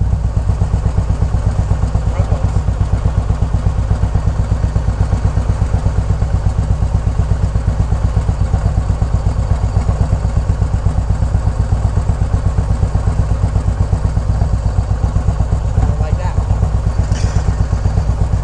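An Indian Challenger motorcycle engine while riding, a loud, steady low-pitched drone with a constant throb and wind rush throughout, close up and uninterrupted.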